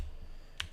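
Two quick keystrokes on a computer keyboard click near the end of a short, quiet stretch, faint and close, with no talking.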